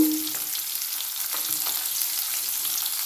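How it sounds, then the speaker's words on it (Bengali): Bitter gourd fries with salt and turmeric in a pan, a gentle, even sizzling hiss with occasional soft crackles and scrapes, moderately quiet and close. "আমি এর মধ্যে উচ্ছেগুলো ভেজে নেব"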